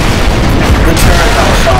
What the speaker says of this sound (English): The turret got shot.